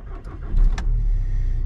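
A wrecked Audi A3 with an ABS fault cranks briefly, then catches, and its engine settles into a steady, close running rumble.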